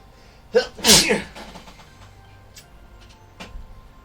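A single loud, close sneeze from someone at a miniature-painting desk, preceded by a short sharp burst, followed by a few faint clicks and quiet room noise.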